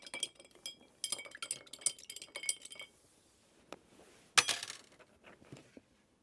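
A metal bar spoon clinks and rattles against a cocktail glass while a tequila drink is stirred, a busy flurry of bright taps, a brief pause, then one sharp clink and a few softer ones, close and clear.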